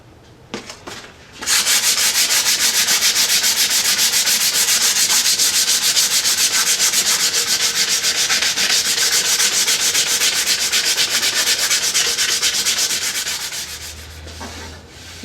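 Sandpaper rubs steadily over the wood of an Ishi style bow, a loud, close, continuous hiss of sustained back-and-forth strokes that starts abruptly and fades out near the end.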